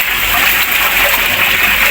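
A creek flowing steadily, a loud, close, continuous rushing of water with no pauses or voices.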